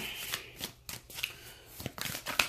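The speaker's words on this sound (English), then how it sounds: "Hopefully this shuffling is not too loud" Tarot cards get shuffled close up in a quick run of soft riffling bursts and papery slaps, separated by short pauses, with no voice heard.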